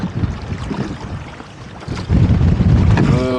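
A wind gust sweeps over a sailboat on a choppy, shallow bay, with buffeting wind noise on the microphone that swells into a louder, sustained rush after a brief lull.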